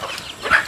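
A chicken raised in an open hillside spot gives a brief cluck over quiet outdoor background.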